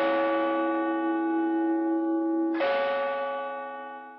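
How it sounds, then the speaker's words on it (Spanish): A church bell in Huaquechula strikes the 2 p.m. hour during Day of the Dead festivities. Two loud, close metallic strokes sound alone, the first humming on until the second hits and slowly fades. "hora en que suenan las campanadas de la iglesia y es la señal para poder pasar a visitar"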